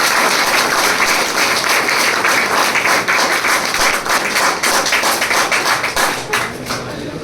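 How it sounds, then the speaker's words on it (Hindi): A classroom full of students breaks into loud, dense applause that stays steady and unbroken across the whole stretch and eases slightly only at the very end. "तो एक बार पुणे जोरदार ताली बजाएं क्लास के लिए।"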